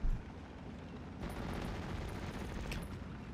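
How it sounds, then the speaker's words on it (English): In the video game Steel Division 44, a grenade goes off with a short sharp burst at the start, then a sustained, crackling rumble of battle noise rises and holds at a low level. "And out goes one grenade"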